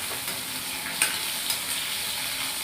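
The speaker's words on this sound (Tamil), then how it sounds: "அதே வானலியில் எண்ணெய் ஊற்றி கடுகு, கருவேப்பிலை போட்டு பொடி ஆஃப் குக் பண்ண உருளைக்கிழங்கு தோல் உரித்து கட் பண்ணி வச்சுருக்கிறேன்" Peeled, cut potatoes fry in oil with mustard seeds and curry leaves, giving a steady close sizzle with a couple of faint stirring clinks.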